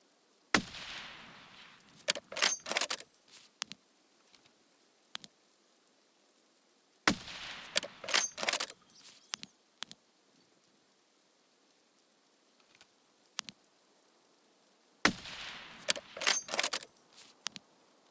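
Gunfire in Escape from Tarkov shot through a wall: three separate bursts of sharp, loud shots spaced several seconds apart, with quiet gaps of game ambience between them.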